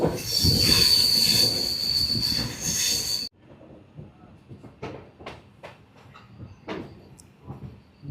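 Kolkata–Sairang Express (13125) train wheels squealing loudly against the rails for about three seconds, then cutting to quieter rolling rail noise with intermittent clacks and knocks from the moving carriage.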